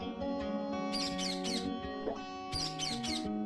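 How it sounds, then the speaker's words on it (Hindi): A caged bird in a Hindi cartoon chirps in quick, bright bursts of high squeaky tweets, repeated in two clusters over a layered musical background. "ये पक्षी बहुत शोर मचा रहा है।"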